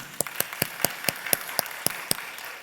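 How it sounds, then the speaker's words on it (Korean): Applause from a church congregation at a Sunday evening worship service: faint, evenly spaced claps, about three per second, in a steady rhythm with no talking over them. "우리 호산나 박수해 줍시다."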